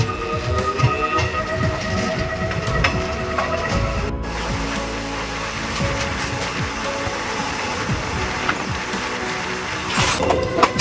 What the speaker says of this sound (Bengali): সামনে সিগন্যাল না পেয়ে দাঁড়িয়ে আছে জন্মভূমি এক্সপ্রেস বিশাখাপত্তনম